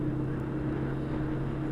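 Motorcycle engine cruising in third gear at 30 mph on a road, a steady low drone with a constant even hum and wind noise, heard alone.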